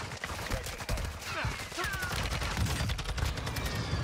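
Rapid bursts of TAQ 56 rifle fire in a Warzone firefight, dense overlapping shots with sharp cracks running continuously, loud and close.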